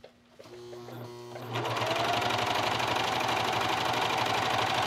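A coverstitch machine runs fabric through with elastic thread, starting with a few quiet clicks and a soft whir before settling into a steady, fast, close mechanical rattle.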